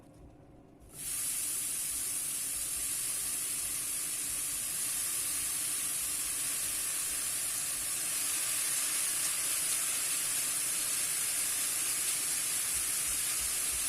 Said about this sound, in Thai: ขั้นตอนที่สามก็เดี๋ยวเราจะทำการ นำเห็ดนะคะลงกระผัดนะคะ